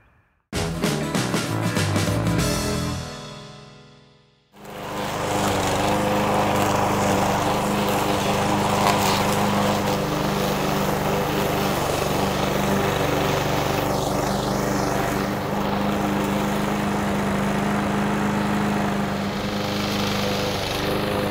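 A lawn mower engine runs loud and close, revving briefly and then winding down before restarting into a steady, droning roar that continues without talk.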